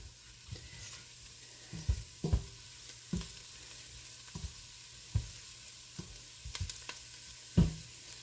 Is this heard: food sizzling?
yes